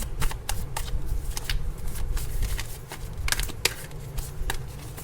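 Tarot cards shuffled by hand, a steady run of soft papery riffles and flicks with a few sharper slaps as cards fall, close and fairly loud with no talking.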